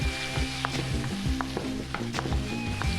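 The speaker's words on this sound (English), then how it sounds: "Get that stir fried in there good." Steady sizzling and crackling of zucchini stir frying in a hot pan, close and continuous, with occasional clinks of a utensil.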